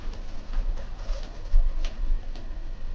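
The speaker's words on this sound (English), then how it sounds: "There is a bird." A pigeon or dove coos softly from a roof close overhead at a cheap hotel among Vietnamese rice terraces, a few low calls set against steady outdoor ambience.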